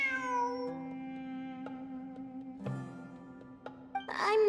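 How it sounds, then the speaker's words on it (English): A cat in the Genshin Impact video game gives a long, drawn-out meow over steady in-game music, followed by shorter sounds and a brief louder burst at the end. "I'm not hearing things. It really is a cat."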